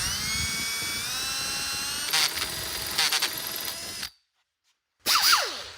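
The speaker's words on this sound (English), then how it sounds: "and then we'll go ahead and finish it off with a carbide bit" A carbide bit grinds metal on a Porsche 911 Turbo under rebuild, a high, steady whine that rises in pitch, then stutters in short bursts, stops for about a second and starts again.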